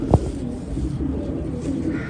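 A single pigeon, a Ferozpuri-bred bird, gives a soft, low coo close by against a quiet, faintly noisy background.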